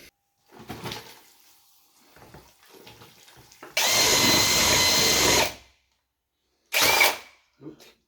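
A power drill mixes plaster in a bucket for skimming walls, a loud steady whirring churn running for nearly two seconds, with a brief second burst after a pause and soft talk and knocks beforehand.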